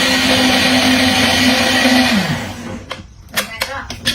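A blender whirs steadily at close range, blending a health smoothie of tomato, apple, avocado and kale. Its motor pitch drops as it winds down, and a few sharp knocks follow.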